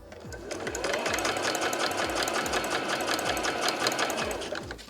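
Close and steady, a sewing machine hums and clatters with a fast, even stitching rhythm as fabric is sewn with its edge lined up to the presser foot edge, running without pause throughout.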